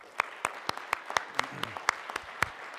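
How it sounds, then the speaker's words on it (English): Thin applause at a summit morning session, a few distinct hand claps at a regular pace over quiet room noise. "I particularly want to applaud them."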